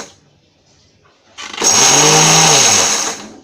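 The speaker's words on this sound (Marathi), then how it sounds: "आणि मिक्सरला लावताना पण तुम्हाला आता थोडं दाखवते मी" A kitchen mixer grinder whirs through horse gram in one short burst, a loud high-pitched motor whine that spins up after soft handling clicks, holds for over a second, then winds down.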